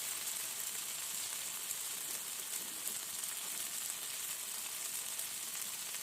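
Potatoes fry in oil with turmeric and chili powder, giving off a steady, bright sizzle that crackles evenly throughout, close by and soft, with no voices over it.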